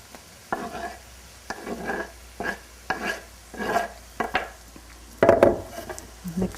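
Chopped giblets being mixed into a bowl of stuffing, with a series of rhythmic scraping, stirring strokes roughly once a second and light clinks of a utensil against the bowl, close and fairly quiet.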